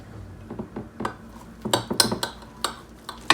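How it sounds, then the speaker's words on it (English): A knife cutting through hard-boiled eggs on a plate or board in a home kitchen, a series of sharp clinks and taps, fairly close and irregular, with no voices. "I'm gonna go ahead and cut my eggs"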